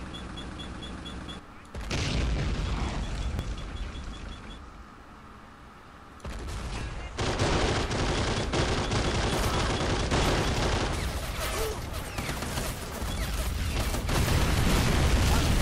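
Dense, continuous gunfire and explosive booms from a machine gun and battle in the war game Men at War 2, with bursts running loud and almost unbroken throughout and a few voices underneath.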